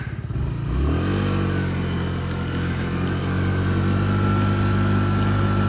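A Yamaha Jog SA39 ZR fuel-injected scooter engine runs loud and close, its pitch rising as it pulls away, then holds a steady buzzing drone with tonal harmonics throughout.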